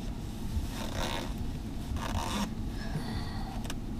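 A zipper on a leg cast removal setup rasps in a few short scraping pulls against steady low background rumble, fairly quiet, with no one speaking.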